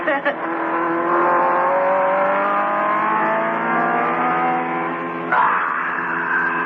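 A racing car engine roars steadily at high revs, the pitch climbing as it accelerates, then shifts sharply with a gear change as it overtakes another car; a continuous, loud motor drone fills the scene.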